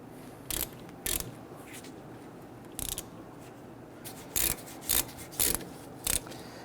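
A ratchet tightens the caliper bracket bolts on a 2006–2012 Toyota RAV4 in short bursts of sharp clicking, about eight spaced pulls, close by against quiet garage ambience.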